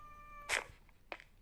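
A cat cries indoors during a game stream, one loud drawn-out meow followed by a shorter second call, close to the microphone, with no talk.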